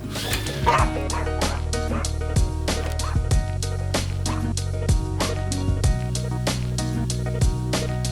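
A dog barks and yips in quick repeated bursts with some whimpering in between, loud and close, carrying across the whole stretch alongside a steady tonal background hum.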